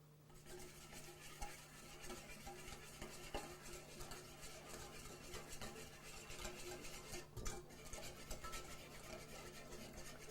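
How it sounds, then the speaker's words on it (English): A whisk beats a vinaigrette of salt and freshly ground pepper in a bowl, making a quiet, continuous rapid scraping and clicking with a few sharper knocks against the sides. "We want to whisk that all together again."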